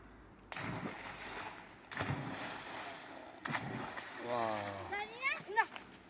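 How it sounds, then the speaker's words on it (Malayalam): Children jump one after another into a clear-water village pond in Malappuram, making three separate splashes. Excited children's voices and chatter follow near the end. "അങ്ങനെ കുട്ടികളൊക്കെ ചാടി കുളിക്കുകയാണ്"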